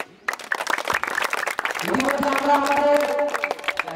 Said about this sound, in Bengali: এই তো ভালো, সবাই তো হাততালি দাও